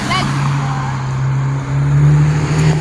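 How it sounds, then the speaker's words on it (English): A car passes by during a morning run, a steady engine and tire hum that swells and fades, with a voice speaking briefly over it. "Car."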